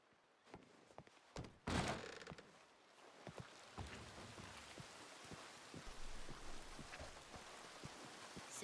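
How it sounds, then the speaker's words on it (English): Rain falling in a Wild West setting in a roleplay game, a faint, steady patter with scattered drops and a couple of duller knocks early on. "It's raining."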